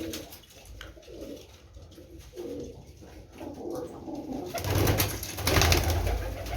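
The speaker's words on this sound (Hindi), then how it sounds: "अभी कुछ बर्ड्स क्रीजों में हैं, कुछ ब्रीड कर रहे हैं" Pigeons kept by a breeder coo repeatedly in soft, rhythmic, throaty phrases, growing louder toward the end, with faint fluttering and background noise but no talk.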